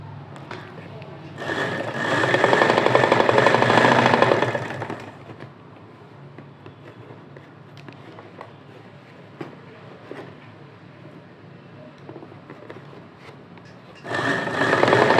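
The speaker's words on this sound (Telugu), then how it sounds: "నేను ఇప్పుడు స్టిచ్చింగ్ చేస్తున్నాను చూడండి." A sewing machine stitches a line on cloth for a bow, its motor whirring in a loud burst of a few seconds, then a quieter stretch before it starts again near the end.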